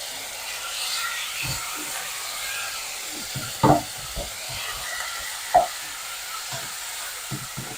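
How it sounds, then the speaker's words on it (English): Meat sizzles steadily in a pan, with a few sharp clacks of a utensil scraping and stirring. "So I'm frying the meats."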